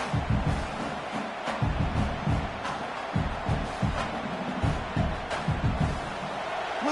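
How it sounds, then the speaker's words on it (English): A dense college football stadium crowd at Baylor roars continuously, with rhythmic pulses of cheering and chanting that keep a loud, steady wall of noise. "Listen to the crowd energy here in the early going."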